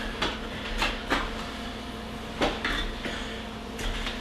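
A knife cuts along a chicken backbone, sounding as a series of faint irregular clicks and scrapes against a cutting board, quiet and close with no talking.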